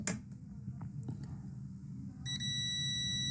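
A multimeter's continuity buzzer sounds a steady, high-pitched tone as its probes touch a coil on an iPhone board, starting abruptly after a few light clicks and holding to the end.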